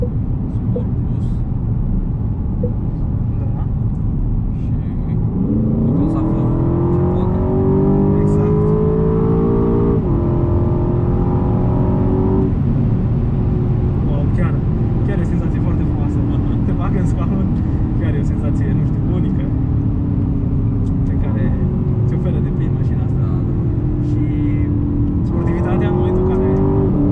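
An Aston Martin DBX 707 with a 550 HP V8, switched to Sport Plus mode, accelerates hard, its engine note climbing through gears with distinct shift drops, a loud, continuous roar heard from inside the cabin.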